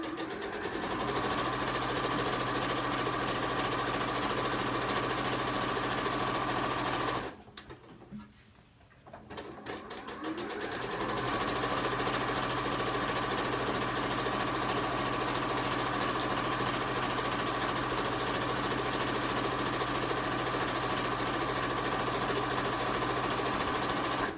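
A home sewing machine stitches slowly through thick layers of fabric over a pillowcase cuff, humming and clattering in a steady, continuous whir that stops briefly for a few seconds partway through, then resumes at the same even pace.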